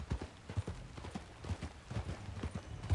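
A horse gallops at a steady clip-clop in the video game Red Dead Redemption 2, rhythmic hoof beats close and clear throughout with no talk.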